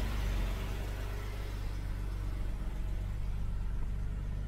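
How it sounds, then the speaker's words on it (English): A daily-driven Jaguar XJ6 with a freshly installed replacement engine idles steadily, a low, even rumble close by with no voices over it. "The daily driven XJ6 is up and running again"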